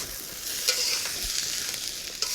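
Vegetables and tofu stir-frying in a hot pan make a continuous bright sizzle with a few spatula stirs and scrapes, close and steady for a short stretch, without speech.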